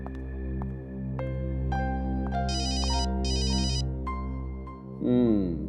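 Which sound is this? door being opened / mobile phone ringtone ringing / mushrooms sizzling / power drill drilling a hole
mobile phone ringtone ringing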